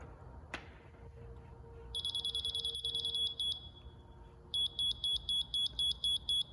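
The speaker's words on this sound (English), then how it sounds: "Whenever that one starts beeping, that means you need to go up a little." A Bosch GRL 250 laser level gives off high electronic beeps, first a long steady tone, then a rapid series of about eight short evenly spaced beeps, over a low room hum.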